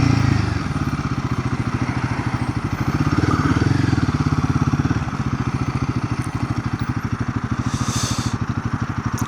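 Royal Enfield Guerrilla motorcycle ridden, with its engine thumping in a steady rapid pulse close by and loud, the pitch shifting slightly over the ride.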